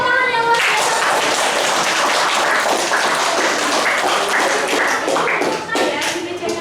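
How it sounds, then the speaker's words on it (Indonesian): A classroom of students bursts into applause, dense, loud clapping that runs continuously for several seconds, with scattered voices and some cheering mixed in. "Beri tepuk tangan yang luar biasa."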